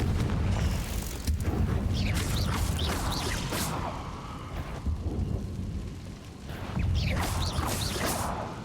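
Booming Confringo blasting-spell explosions in Hogwarts Legacy, with deep rumbling blasts and whooshing bursts rolling continuously, loud and near, without talking.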